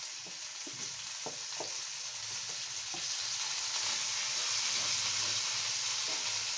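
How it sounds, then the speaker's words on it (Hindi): Meat fries in a pot while being stirred, producing a constant close hiss that grows louder partway through, with rhythmic scraping taps of the spoon against the pot and no speech. "इसके अंदर जो है ना ये मिक्स कर देंगे गोश्त, ताकि ये थोड़ा सा भुन जाए"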